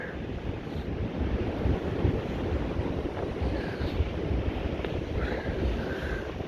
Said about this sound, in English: let's get out of the wind a bit now